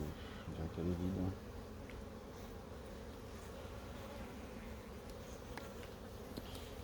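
Honeybees buzz around a beehive during a hive visit, a continuous low drone at moderate distance, with a brief muffled bump near the start and faint handling noises.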